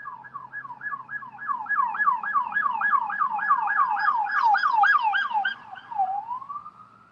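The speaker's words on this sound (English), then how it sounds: "I don't know if you guys heard those sirens" A police siren wails in a fast repeating yelp of about twenty rising-and-falling cycles, loud and close, then slides into a slower single wail before fading.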